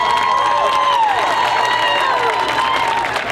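A large crowd at a stadium dedication applauds and cheers, a loud sustained roar of clapping and voices with whistles and whoops, heard from within the stands.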